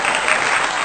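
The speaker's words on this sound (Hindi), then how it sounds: "जोरदार तालियां" An audience at a Hindi poetry gathering applauds a poet, a brief, loud, dense wash of clapping with no pause.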